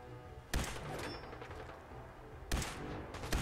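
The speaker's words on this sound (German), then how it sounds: "Noch ein Schuss, komm schon!" Two loud gunshot blasts from a weapon in Fallout 4, each a sharp crack with a rumbling tail, spaced about two seconds apart amid steady game background noise.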